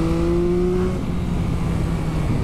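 Yamaha MT-09 SP motorcycle engine accelerating, a steady loud drone with a rising tone that fades into broadband wind and road rush, heard up close with no talking.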